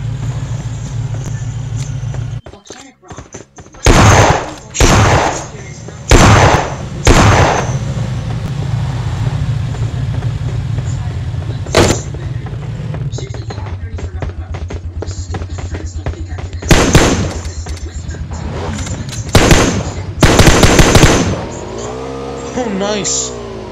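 Gunfire in the battle royale game PUBG comes as several loud, sharp bursts over continuous vehicle engine drone, with a few further shots later and a player talking in between.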